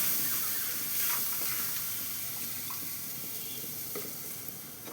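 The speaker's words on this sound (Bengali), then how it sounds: "এইবার এর মধ্যে আমি যে পেস্টটা করেছি, টমেটো, রসুন, লঙ্কা আর তোমার আদা, এই পেস্টটা ঢেলে দিচ্ছি।" Tomato, garlic, chili and ginger paste hits a hot pan, giving a steady, fairly faint hiss and sizzle with occasional small crackles, no voices.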